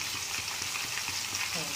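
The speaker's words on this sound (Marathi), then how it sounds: "आता त्यानंतर ओली मिरची टाकू। व्यवस्थित एकत्र हलवून घेऊ।" Steady sizzling as green chilies are stirred in hot oil in a pan while cooking an ambadi leaf vegetable dish, a continuous close frying hiss with faint scraping.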